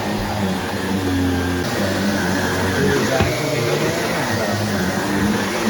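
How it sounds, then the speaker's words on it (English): A vacuum cleaner powered by a VTOMAN Jump 1000 portable power station runs steadily and loudly, a constant motor whine with broadband airflow rush that holds even throughout without pauses. "I'm already vacuuming."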